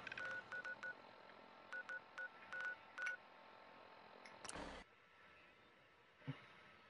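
Telephone keypad dialing in the game Fallout 4: a quick series of short electronic tones in irregular bursts, followed by a brief burst of noise and then near silence.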